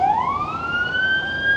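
An emergency vehicle siren sounds on a street in Chisinau, Moldova, with a loud rising wail that climbs and then holds steady nearby. There are no voices over it.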